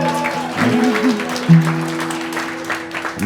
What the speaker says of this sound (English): That was the guitar solo. You can applaud. You can clap.